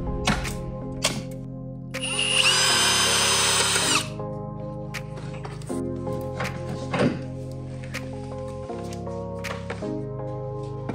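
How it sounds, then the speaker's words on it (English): A power tool works on a car's oil catch can assembly, a nearby whirring buzz with a high-pitched burst lasting about two seconds, separated by clicks, thunks and clinks of parts being handled. "So I'm actually going to clip those off, undo the bolt securing the catch can, pull the assembly out"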